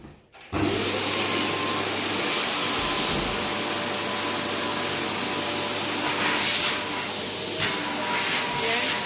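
A Dyson Cinetic Big Ball CY22/C vacuum cleaner switches on abruptly and runs steadily at full suction, producing a loud, constant whooshing roar with a faint tonal whine and slight shifts in pitch.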